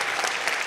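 Audience clapping for a group of young writers at a creative writing reading, a brief dense burst of applause heard alone.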